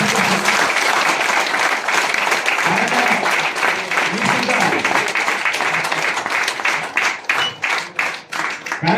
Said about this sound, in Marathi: एकदा जोरदार टाळ्या होत्या ना.